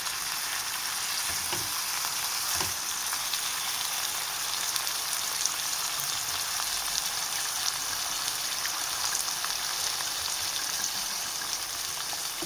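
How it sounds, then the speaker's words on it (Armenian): Beef fries in a pot as red wine is poured in, giving a steady, dense sizzle and crackle that runs evenly throughout at close range with no talking. "Մի լավ խառնում ենք կրկին և ավելացնում ենք կարմիր գինը։"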